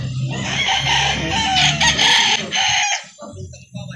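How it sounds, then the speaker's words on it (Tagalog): Golden-colored rooster of Pumpkin breed crowing and clucking loudly at a chicken market in Calauan, Laguna, with background chatter and other fowl around it. "Ito pa, kulay ginto na manok."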